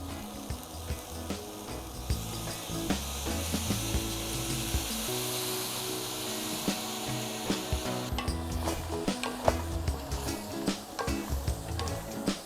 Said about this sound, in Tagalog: let's put in the sauce